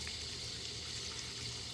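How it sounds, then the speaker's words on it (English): Water pours steadily onto a potted juniper, a continuous, even hiss and splash without breaks, close and moderately quiet. "I'm gonna water this juniper."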